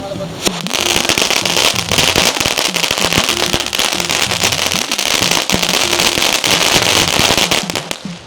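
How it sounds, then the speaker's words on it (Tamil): Loud, rapid Diwali firecracker explosions crackle and pop nonstop in dense overlapping bursts, with faint voices underneath. "நான் அடுத்த பட்டாசு போட போகிறேன்"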